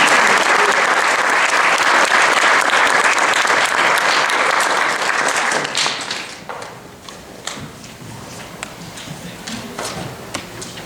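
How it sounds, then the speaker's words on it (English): Dense audience applause at a college honor society induction ceremony fills the room, loud and sustained, then thins out into scattered individual claps before fading. "a round of applause for our excellent teacher"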